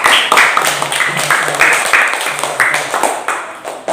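A classroom group applauds after student presentations, giving several seconds of brisk, fairly close clapping with voices murmuring underneath.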